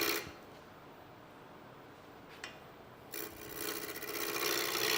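A roughing gouge cuts side grain on wood spinning in a lathe, first a quiet steady rasp with a brief scrape, then louder, harsher continuous shaving noise building toward the end, close and with no talking.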